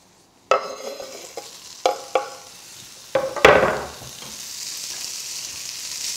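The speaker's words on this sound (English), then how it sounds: "now that my pan is nice and hot, we'll just pop our bacon in" Bacon strips go into a hot pan for potato salad, with a few sharp clatters as they drop in, followed by a loud burst of sizzling that settles into a steady, moderate fry.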